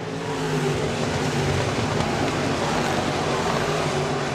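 Modified race cars roaring around Crawford County Speedway, a continuous dense engine drone from several cars at a distance, steady and loud without a break.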